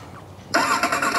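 An electronic motorcycle sound module mimics a sports bike starting, cutting in abruptly after near silence and settling into a loud, steady revving engine tone with slight pulses.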